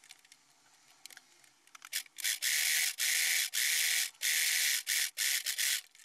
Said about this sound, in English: I'm gonna sew from there all the way to there